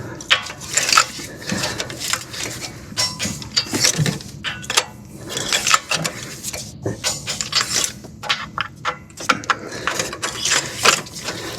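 A ratchet clicks steadily as spark plugs are torqued down on a Toyota Tundra 5.7. Rapid pawl ticks come in repeated bursts, close and distinct, with no talking.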